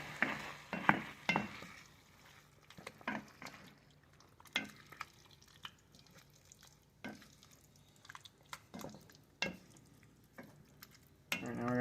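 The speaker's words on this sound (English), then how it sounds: "Alright, now we're going to turn this down to low. Stir this in." A spoon scrapes and clacks around a pan of tikka masala sauce in irregular strokes, with soft bubbling and low sizzle underneath and quiet gaps between stirs.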